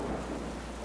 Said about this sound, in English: The rain is coming directly at me.